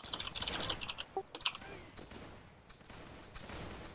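Musket regiment volley firing in a Napoleonic Waterloo battle video game, a faint, ragged crackle of many scattered shots popping in quick irregular bursts rather than one clean volley, with distant battle noise and low voices underneath.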